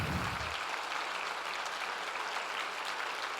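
A church congregation breaks into sustained applause, a dense wash of clapping that fills the room from start to finish after a brief low thump at the opening.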